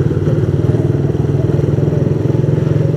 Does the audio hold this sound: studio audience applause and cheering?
no